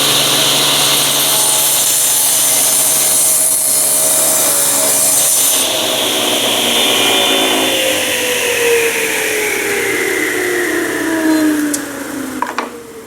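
A power saw cuts a popsicle stick against a fence set at 1.5 inches, giving a loud, steady whirring rasp that continues through most of the run and then winds down at the end.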